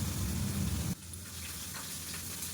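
A loud frying sizzle fills the first second, then drops to a quieter, steady crackle of oil in a pan.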